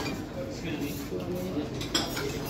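Plates and cutlery clink and knock faintly at a restaurant buffet lunch while a plate is picked up, with a busy murmur of diners behind and one sharper clink near the end.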